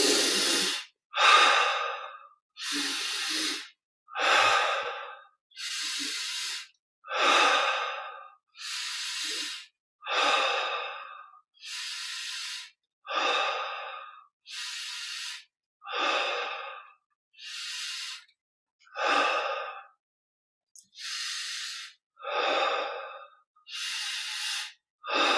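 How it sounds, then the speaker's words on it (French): Slow, deep breathing during guided meditation, about a dozen cycles of air drawn in through the nose and released through the mouth, each a soft close hiss separated by quiet pauses, with no talk. "inspire par le nez, expire par la bouche"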